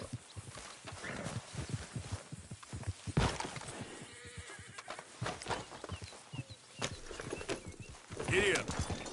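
A horse in Red Dead Redemption 2 gallops with steady clip-clopping hooves and an occasional whinny, a voice speaking over it now and then.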